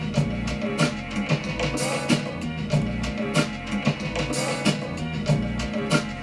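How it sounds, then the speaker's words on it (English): A slow, looping MPC beat with steady drum hits repeating under a thick, slowed-down musical sample, dense and continuous throughout. "Take a loop, slow it down, sample some drum, or just take a drum loop"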